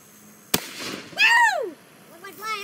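A black powder cannon firing a one-inch steel ball bearing gives a single sharp, loud bang, followed by excited voices reacting.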